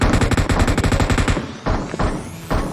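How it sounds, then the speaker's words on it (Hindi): Rapid automatic gunfire in a battle royale video game rattles loud and close in a dense burst, then breaks into a few scattered shots. "फायरिंग आई, फायरिंग कहाँ से आई?"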